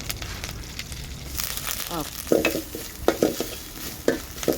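Grated coconut with curry leaves sizzles in a hot pan while a utensil scrapes and stirs, with repeated sharp scraping strokes over a steady frying hiss.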